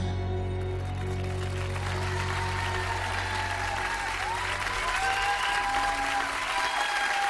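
A French variety-show studio audience applauds a singer with continuous, dense clapping that holds steady throughout, while music with a sustained low tone fades out beneath it at the start.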